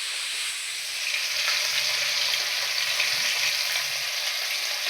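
Pomfret fish frying in a pan give off a steady, loud, dense sizzle that continues evenly for the whole stretch, with no voices.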